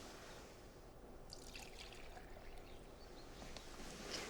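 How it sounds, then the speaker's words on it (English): Vegetable oil trickles into chocolate cake batter in a thin, soft, steady pour, faint and close with no talking. "1/2 cup of vegetable oil"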